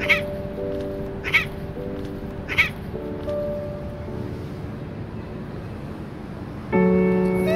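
A mother cat meows three times at a steady spacing, fairly clear over a continuous tonal background bed that swells louder near the end.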